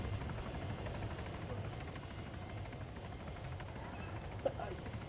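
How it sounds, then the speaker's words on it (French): A helicopter in the Arma 3 Altis Life game drones as a steady, fairly faint rumble across the whole stretch, with one brief click near the end. "L'hélicoptère est là."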